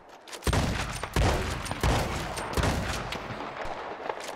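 Several shotgun blasts are fired at a grizzly bear in a game, loud close booms coming in quick succession, roughly five or six shots with rumbling tails.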